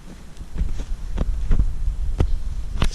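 A rotary buffer polishes truck paint during paint correction, giving a steady, close, low throbbing rumble with uneven soft thumps and brief rubbing swishes throughout. No one speaks.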